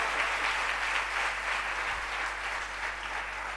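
A large crowd at a religious birthday celebration for a Swaminarayan acharya applauds in a continuous, even wash of clapping that holds steady from start to finish.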